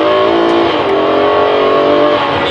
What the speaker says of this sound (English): We have managed to bring about a good presence of the extraction sound inside the passenger compartment